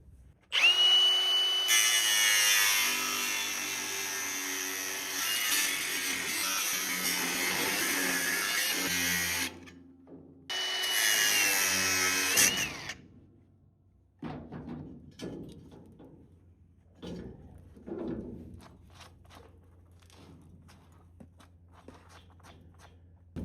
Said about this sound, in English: I'll just use a cutoff wheel.